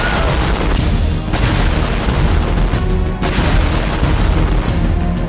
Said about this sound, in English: I'm gonna see if this city can survive a giant explosion.